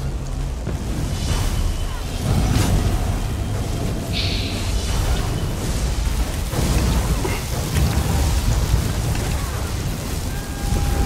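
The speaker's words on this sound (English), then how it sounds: "And call lightning." Thunderstorm sound effect from a lightning-calling ability in a video game: dense rumbling thunder and rain-like hiss fill the whole stretch, with a few louder crackling booms, loud and continuous.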